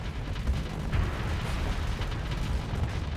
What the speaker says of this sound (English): Fire your torpedo, friend.